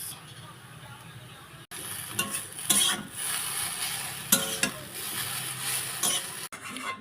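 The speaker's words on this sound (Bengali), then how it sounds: "তো এবার এটাতে যোগ করব সয়া সস।" Chow mein noodles fry in white oil in a pan as soy sauce goes in, giving a continuous sizzle with stirring, occasional clinks of utensil on pan and a couple of short gaps.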